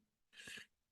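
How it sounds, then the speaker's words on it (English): A single short sneeze bursts out faintly and is over in a moment, from someone with sinus trouble, against a quiet room with no talk. "lots of sneezing today"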